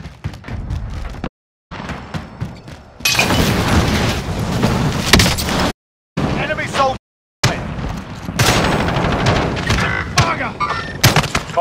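Gunfire fills a Call of Duty Warzone multiplayer match, with dense bursts of shots and booming impacts broken by brief silent cuts, loud and close, while game voices call out over the fighting.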